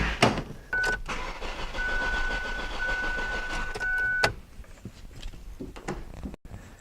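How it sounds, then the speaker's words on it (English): A Ford Focus with no fuel pressure cranks without starting: a steady mechanical whir from the starter for about three seconds, with a thin electronic tone over it, then clicks and quiet. "Let me go ahead and just crank this engine over and confirm there's no fuel pressure."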